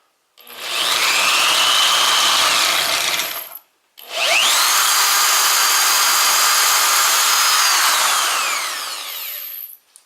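A power drill boring holes into a Briggs exhaust for a Helicoil thread repair, two loud sustained whining bursts separated by a brief pause, the second longer and fading at its end.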